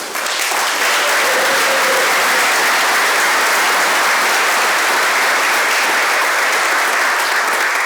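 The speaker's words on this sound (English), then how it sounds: "Let us give another well-deserved round of applause for the class of 2025 Athletic Hall of Fame inductees." A large crowd at an athletic Hall of Fame ceremony applauds the class of 2025 inductees, a loud, thick, continuous wash of clapping that stays full and even from start to finish.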